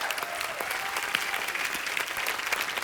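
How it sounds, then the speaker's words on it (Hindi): A studio audience at a Hindi comedy show breaks into steady, dense applause that stays loud and even for about three seconds, with no talking over it. "जोरदार तालियां।"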